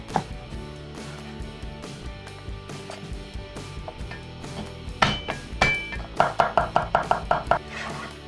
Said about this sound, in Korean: 양파는 잘게 썰거나 다져주시면 돼요.